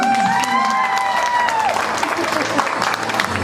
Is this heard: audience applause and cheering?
yes